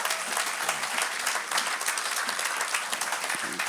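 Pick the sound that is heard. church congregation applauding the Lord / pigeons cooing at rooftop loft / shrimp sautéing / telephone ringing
church congregation applauding the Lord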